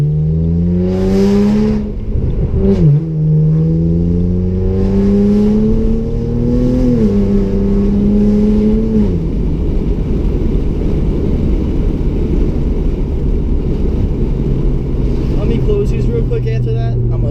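A BMW with the N54 engine pulls hard through the gears, its engine note climbing and dropping at each shift before settling into a loud, steady drone. The sound is close and continuous.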